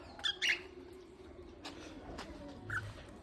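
Soft pigeon cooing with a few brief chirps, fairly quiet against a low background hum.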